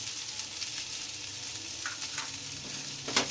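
Okra and green chillies fry in a pan with a steady crackling sizzle. Scraping stirs and a few sharper clacks of the spoon sound over the hiss.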